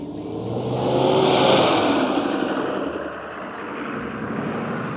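A 4x4 off-road car engine revs up and drives on along a forest track at an event, the loud engine swelling then easing off and holding a steady drone with no one talking.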